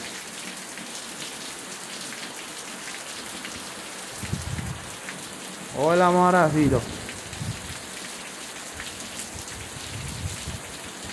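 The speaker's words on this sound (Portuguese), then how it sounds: "Chuva." Rain falls steadily on the countryside near Campina Grande, Paraíba, in Brazil's northeastern sertão, making a constant soft hiss. Someone speaks briefly partway through.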